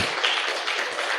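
A church congregation at a Christmas sermon clapping for the pastor: a brief dense burst of many hands applauding together, close and fairly loud, with no voices.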